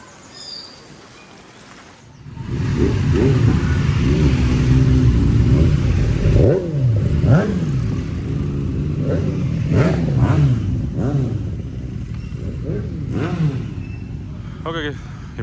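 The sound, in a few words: Royal Enfield Himalayan 450 motorcycle riding off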